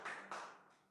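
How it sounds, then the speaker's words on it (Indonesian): A congregation at a youth church service clapping to welcome a newcomer, two short bursts of clapping, faint and brief, fading out quickly. "kasih tepuk tangan dulu saudara"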